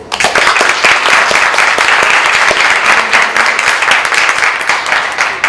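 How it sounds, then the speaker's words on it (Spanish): A loud, close burst of audience applause greets actress Laura Luz at the start of an interview, with many hands clapping in a continuous roar for several seconds. "Un fuerte aplauso para Laura Luz."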